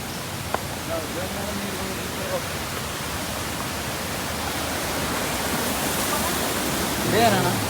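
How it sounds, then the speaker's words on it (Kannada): Jogigundi waterfall in dense forest near Agumbe, Thirthahalli taluk, gives a constant broadband rush of falling water, steady and moderately loud, with a few brief voices and small bumps over it and a slight swell near the end. "ఇదే ఫాల్స్"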